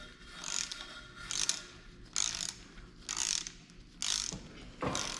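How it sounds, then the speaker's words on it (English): Ratcheting torque wrench tightening 8mm valve cover bolts on a 5.3 engine, five short bursts of clicking a few feet away, with brief pauses between strokes and no talking. "we need to grab our torque wrench and an 8mm"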